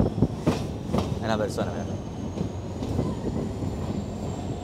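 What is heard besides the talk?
train passing at Argentine railway station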